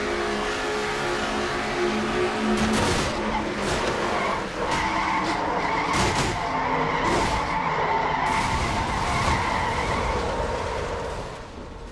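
A race car in a NASCAR-style racing video game crashes and skids on an oval track: a sustained loud engine roar with long tire squeals and scraping, plus several sharp impact bangs spread across the stretch.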